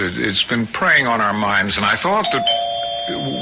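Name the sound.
doorbell ringing in a radio drama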